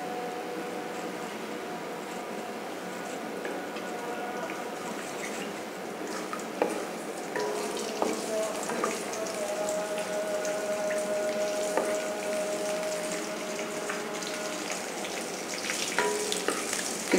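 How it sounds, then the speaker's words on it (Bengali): Half a spoon of cumin and two dried chillies crackle in hot oil as a tempering for a tilapia curry, a steady moderate sizzle with scattered pops that holds evenly throughout. "আমি জিরা 1/2 চামচ মতো দিয়ে দিলাম ফোড়ন দেওয়ার জন্য। আমি 2টা শুকনা মরিচ দিয়ে দিচ্ছি।"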